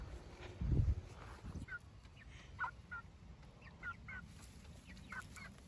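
Chickens cluck softly in short scattered bursts, with a few low thumps near the start and quiet background noise.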